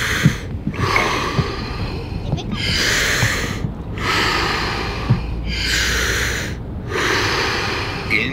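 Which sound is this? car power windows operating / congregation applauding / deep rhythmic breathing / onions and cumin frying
deep rhythmic breathing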